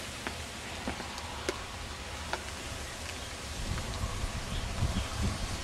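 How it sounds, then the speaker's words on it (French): Wind and rain sweep in as a storm arrives on the Saône, a steady broad hiss of gusts with scattered faint drop ticks and low rumbling buffeting. "Le vent souffle, la pluie commence à tomber."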